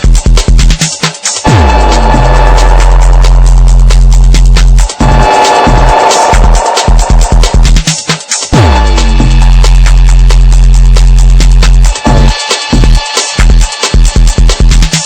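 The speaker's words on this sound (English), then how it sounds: "I can use the dub echo as well." Dub echo effect on a Pioneer DJM900 Nexus DJ mixer: loud, dense electronic music with repeating echoes that smear and pitch down into sweeping tails, cutting in and out across the passage.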